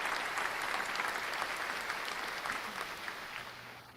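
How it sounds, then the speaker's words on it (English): A round of applause from an audience, dense steady clapping that holds for several seconds, then gradually thins and fades toward the end. "Give them a round of applause."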